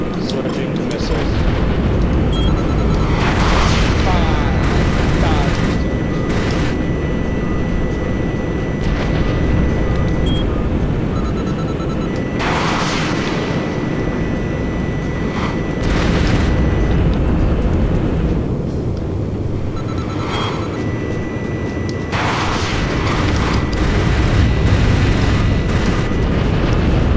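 Missile fire and explosions in the flight combat game Jane's Advanced Strike Fighters: loud, dense roaring bursts that swell and fade repeatedly over a constant jet-engine drone, with several strong blasts spaced across the stretch.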